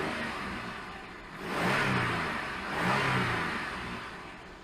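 2005 Jeep Liberty Sport 4x4 engine, high mileage, running close by, a steady mid-pitched hum that swells in two brief revs before settling back, with no talk.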